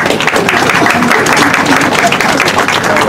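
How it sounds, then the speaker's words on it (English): Loud, close applause from a crowd at an outdoor plaque unveiling in Salinas, California, continuous clapping with a few faint voices mixed in. "Give him a round of applause, everybody."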